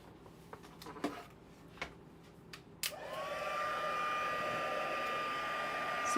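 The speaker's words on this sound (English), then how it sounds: "And I'll just use my heat tool." A craft heat tool blows hot air over a handmade Stampin' Up! card. A few soft clicks and taps come first, then the tool switches on with a loud, steady whirring hiss that holds to the end.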